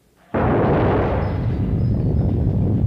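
Hydrogen trapped in an experimental silicon furnace explodes when it is opened: a sudden loud boom after brief quiet, followed by a sustained roaring rumble that fades only slightly.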